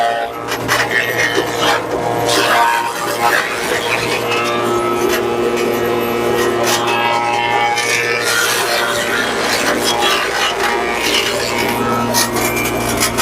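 A fast machine cutting sugarcane into fine crumbly pieces, giving a steady rasping, grinding whir with a constant low motor hum throughout, loud and close.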